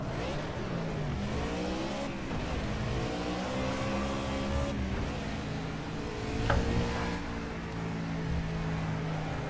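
Race cars in the video game Project Cars lap Watkins Glen, engines revving and sweeping through gear changes with rising and falling pitch, several cars audible, one passing close by.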